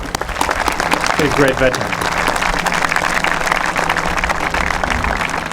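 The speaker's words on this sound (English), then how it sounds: "Please, big round of applause." Audience applause for World War II veterans at a French Legion of Honor induction ceremony, steady dense clapping throughout, with someone speaking over it.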